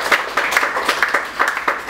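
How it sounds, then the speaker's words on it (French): Audience at a conference applauding a speaker, a short burst of close, dense clapping with rhythmic peaks and no talk over it. "On applaudit madame."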